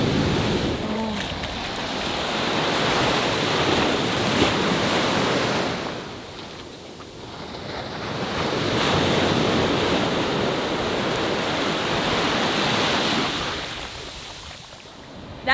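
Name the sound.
ocean waves on beach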